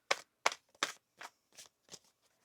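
Tarot cards being shuffled in a series of six or seven short, crisp riffling bursts at a fairly even pace, close and clear against near silence.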